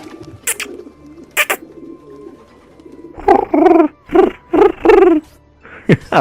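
A person imitates a pigeon's cooing during an Assassin's Creed II play session, giving several short, loud, rhythmic coos near the microphone after a quieter stretch with faint background game sounds and a couple of brief bursts.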